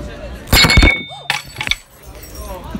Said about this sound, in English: And that's how you break a glass.